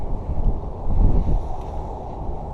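Wind buffeting a microphone outdoors on a fishing trip, a steady low rumble that swells and eases for a couple of seconds, with no talk.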